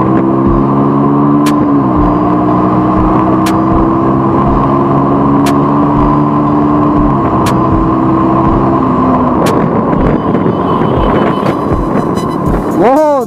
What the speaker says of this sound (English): Let me see how much I speed up.